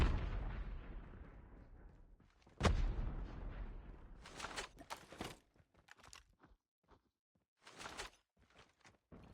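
Bombs going off in a video game: a heavy low boom opens, a second sharp blast follows a few seconds later, then scattered bursts and clatter of gunfire and movement, moderately loud with no talk.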